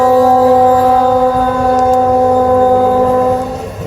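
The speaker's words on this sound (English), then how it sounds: "Let's let the train pass. This is the South Shore." South Shore Line commuter train rolling past in Michigan City, Indiana, a loud, steady close-up rumble with sustained horn-like tonal drones throughout, easing slightly at the end.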